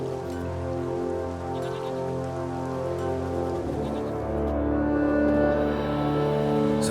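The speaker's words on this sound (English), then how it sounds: "There's no point standing here in the rain." Steady rain in the video game The Witcher III: Wild Hunt, a soft continuous hiss under a sustained musical score with low droning tones, no voices heard.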